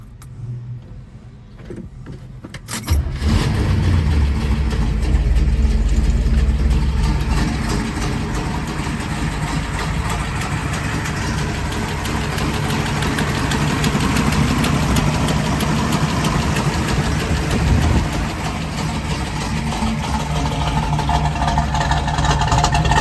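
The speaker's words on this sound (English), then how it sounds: "Let's fire her up. Sounds amazing" A 1969 Chevrolet Camaro V8 engine starts up at about three seconds, then idles with a deep, steady rumble close by. A brief quieter patch precedes the start.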